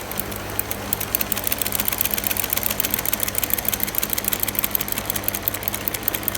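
Industrial sewing machine fitted with a buttonhole attachment, running slowly with a steady rapid mechanical ticking and light whirring, close and even throughout with no talk.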